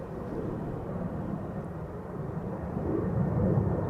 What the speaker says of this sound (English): And so too will an Embraer 190 take off from Polderbaan next.